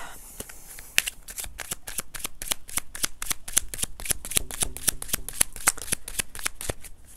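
Oracle cards are shuffled close up in a quick run of crisp riffling flicks and slaps that keep going steadily, with a faint voice briefly in the background.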